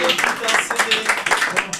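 An audience applauds for Guillaume Rat at a live gathering: a dense, steady patter of clapping hands fills the short stretch, close and fairly loud.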